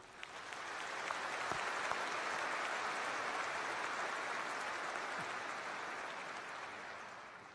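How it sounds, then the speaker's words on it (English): Audience applause fills a graduation commencement hall at Auburn University: dense, steady clapping from a large crowd that swells in quickly, holds evenly and tapers slightly near the end, with no talk over it. "Let's have a round of applause for these individuals."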